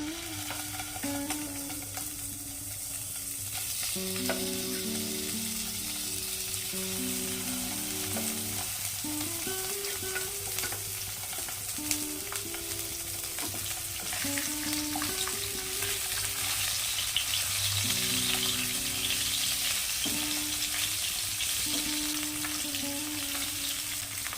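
Bhangor fish rubbed with salt and turmeric frying in a small amount of oil, a steady close sizzle with occasional stirring that runs continuously beneath background music.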